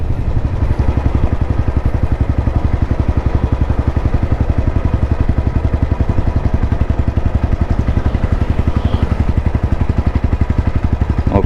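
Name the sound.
Royal Enfield BS6 Bullet motorcycle riding in top gear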